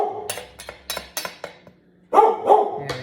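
A dog barks several times in quick, sharp bursts close by in a home kitchen, followed by a louder, longer bark or yelp.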